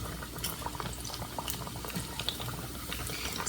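Hot oil bubbles and crackles in a pan before octopus empanadas go in, a dense continuous simmering fizz with small pops, close and moderately quiet.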